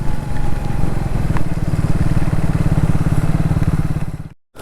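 A 100cc motorcycle engine runs steadily up close on a rainy forest road, its rapid even putter filling the clip before cutting off abruptly near the end.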